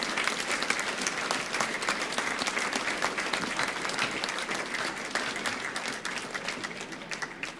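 Sustained audience applause at a club's 50th anniversary celebration, honouring the original founding committee; dense, steady clapping from a large crowd fills the whole stretch without speech.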